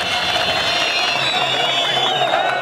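A stadium crowd of football fans at a farewell match for a Wehdat club star in Jordan chants and cheers in a steady, dense roar that carries on throughout with no break.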